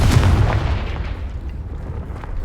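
A Confringo fire spell explodes in Hogwarts Legacy on PS5 with a heavy, booming blast at the start that rumbles and fades over a couple of seconds, with no talk over it.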